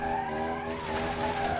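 Tires squeal hard as a 1300 hp kei car spins donuts in the BeamNG Drive driving game, a loud continuous skid layered over a droning, high-revving engine.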